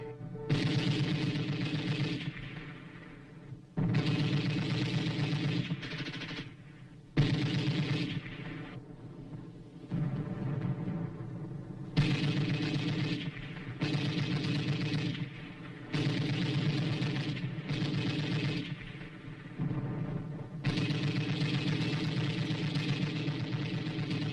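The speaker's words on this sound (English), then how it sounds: "Allied troops open fire with machine guns on an enemy-held area." Machine gun fire from a war newsreel of UN forces counterattacking, long rattling bursts separated by brief gaps, dense and loud with a dull, boomy, lo-fi quality, no voices heard.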